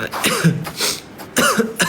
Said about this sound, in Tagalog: Naubo tuloy ako.